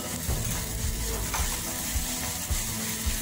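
Red chilli paste for momo chutney sizzles in a hot pan while a spoon stirs it, a steady close frying hiss with soft scraping underneath and no voices.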